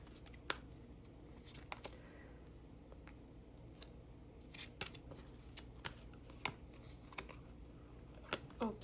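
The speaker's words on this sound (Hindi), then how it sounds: "एक कार्ड हम और लेंगे।" Tarot cards being handled and drawn from a deck: faint, close, dry snaps and flicks of card stock scattered irregularly over a quiet, soft background hush.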